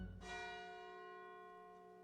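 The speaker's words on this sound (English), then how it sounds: "In the distance, you hear the morning bells ringing out across Sun Harbor." Morning church bell struck once in a harbor town, a single clear ring with a long, slowly fading hum, heard alone at moderate volume.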